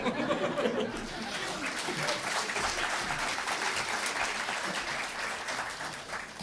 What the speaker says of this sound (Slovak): Ten potlesk sa mi ľúbi, tak ešte jeden,